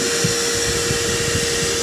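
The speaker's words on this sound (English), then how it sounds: "Maybe what we should do is go ahead and fire up the vacuum" A vacuum runs at a beehive with a steady, loud motor whine and airy rush that fills the whole stretch, close and continuous.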